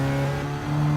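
A steady race car engine drone in Gran Turismo 7 hums at a constant pitch during track laps, loud and continuous with no pauses or talk.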